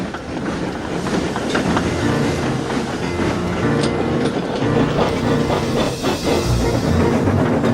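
A steam train pulls out, rumbling loudly and continuously close by, wheels clacking rhythmically over the tracks with a dense mechanical roar.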